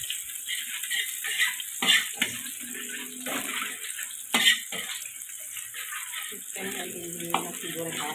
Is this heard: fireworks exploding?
no